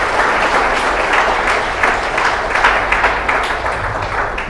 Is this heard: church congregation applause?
yes